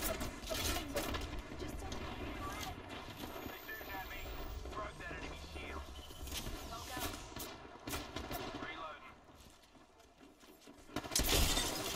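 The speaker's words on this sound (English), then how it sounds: "Broke that enemy shield" An enemy shield breaking during Wattson gameplay in a battle royale shooter, a sharp shattering crack amid rapid gunfire and game clutter, with a player talking over the continuous noisy action.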